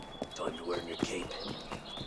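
Galloping horse hooves from Assassin's Creed Unity clop in quick succession, mixed under in-game voices and ambient effects.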